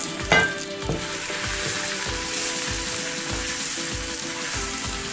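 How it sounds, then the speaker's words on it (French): Aubergines frying and being stirred in a pan for a vegan spaghetti alla norma, a loud continuous sizzle broken by a regular rhythm of spatula scrapes, close up with no voices. "On ajoute les aubergines et on va remuer histoire que toutes les saveurs se mélangent"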